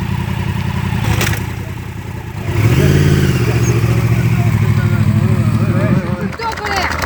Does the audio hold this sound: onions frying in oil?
no